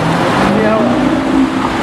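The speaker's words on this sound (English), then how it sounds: "Here comes the Carrera GT." A Porsche Carrera GT supercar passing on a street, a loud rising and falling engine drone heard close with continuous traffic rumble and people talking over it.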